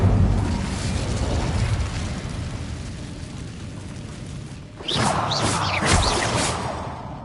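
Incendio fire spell cast in Hogwarts Legacy, a whooshing burst of flame that erupts suddenly after a steady ambient stretch, followed by crackling flares and swishes.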